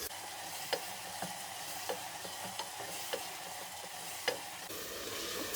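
Steady frying noise of tomatoes in a pressure cooker, with repeated sharp scraping clicks of a spoon stirring, no voices.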